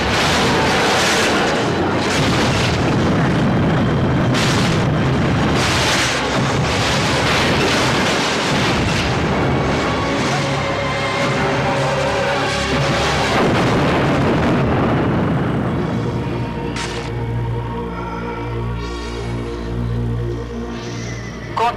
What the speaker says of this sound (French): Explosion imminente.